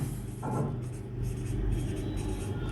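Pen or marker writing an English sentence on a board during a simple future tense grammar lesson, a steady soft scratching across the short stretch over a low background hum, with no talking.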